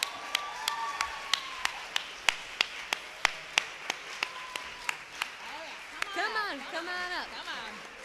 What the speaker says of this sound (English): A round of applause for our mentees,